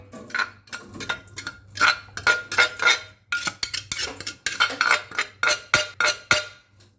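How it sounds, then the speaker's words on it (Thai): A metal spoon clinks and scrapes rhythmically against a pot while pounded spices and catfish are stirred and dry-roasted, close and fairly loud, in steady repeated strokes with no speech. "หลังจากนั้นเราก็ไปทำการคั่วกันเลยนะครับ"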